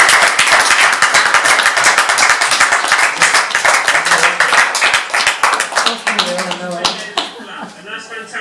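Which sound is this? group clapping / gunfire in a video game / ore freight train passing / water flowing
group clapping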